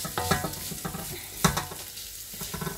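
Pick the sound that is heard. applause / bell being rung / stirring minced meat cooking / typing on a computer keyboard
stirring minced meat cooking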